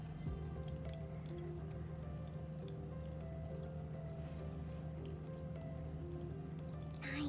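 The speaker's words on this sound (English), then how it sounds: "I'm trying to be really slow and intentional and pour the water through my sponge and through the paper towel." Water poured slowly through a sponge and paper towel filter, a steady low trickling and dripping that runs continuously, close and fairly quiet, with no talk over it.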